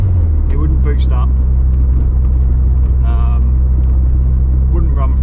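Ford Escort RS Turbo engine running on 99 fuel, a deep steady low rumble close by throughout, with people talking intermittently over it.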